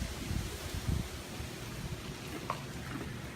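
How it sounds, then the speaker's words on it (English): Wind blows outdoors, buffeting the microphone with a low rumbling rush and faint rustling that swells in a few gusts, steady and moderately quiet with no talk. "It's really windy."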